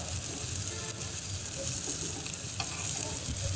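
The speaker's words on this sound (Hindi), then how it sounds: "जो सीख कबाब पहले सेके हुए थे, हाफ़ ब्राउन किए हुए थे, उनको हमने तवे पर अच्छी तरह ब्राउन कर लेना है" Seekh kebabs frying on a hot tawa griddle give a steady close sizzle that hisses evenly throughout, with faint scrapes and pops over the top and no voices.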